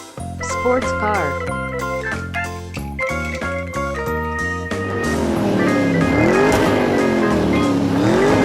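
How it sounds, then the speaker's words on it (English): A toy sports car plays an electronic jingle of stepped tones, then a rising and falling synthetic engine-rev sound, loud and close. "sports car."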